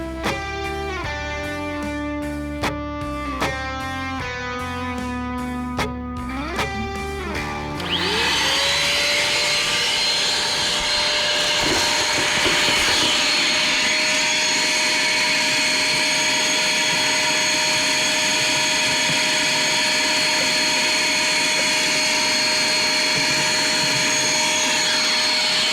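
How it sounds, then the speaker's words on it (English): A vacuum cleaner sucks debris out of a dirty car engine bay, starting after a musical intro with a steady, loud, continuous whine and roar that holds for the rest of the clip. "We're gonna bring out a vacuum. We're gonna suck up a lot of the big stuff."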